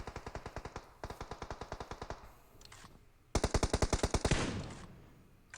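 Automatic gunfire sprays in rapid, evenly spaced bursts in a battle royale video game. Several sustained volleys rattle out with short gaps between them, and the last burst is louder and closer before fading into a tail.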